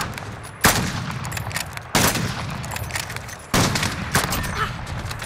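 Game gunfire from an LMG in a Search and Destroy match, coming in three sharp bursts with a dense rattle of shots after each onset and no talk over it.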